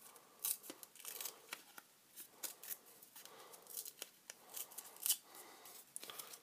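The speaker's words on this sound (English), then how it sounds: "I'm just going to rip it just a little bit off each side" Scrap paper torn by hand in short pulls along each side and then across, giving a series of crisp, close rips and rustles with brief pauses between them and no talking.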